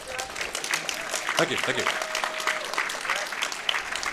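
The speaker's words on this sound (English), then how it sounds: "Yeah, you can clap, you know, don't be scared." Audience applause at a TwitchCon Europe 2019 speedrun event for Grand Theft Auto: Vice City, a steady crowd clapping throughout, with someone speaking over it.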